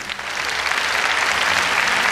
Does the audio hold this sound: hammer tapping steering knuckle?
no